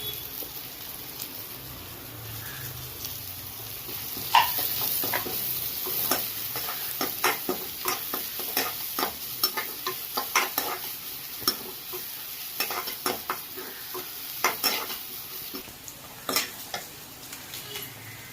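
Onions sizzle and fry steadily in a pan while a utensil stirs and scrapes them, giving a continuous crackle broken by sharp scraping strokes throughout.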